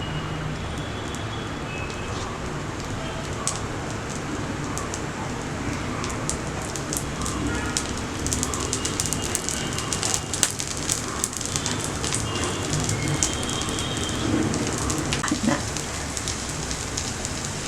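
Sweet appam frying in ghee over a low flame, a steady close crackling sizzle with dense sputtering pops running throughout and growing slightly busier toward the end.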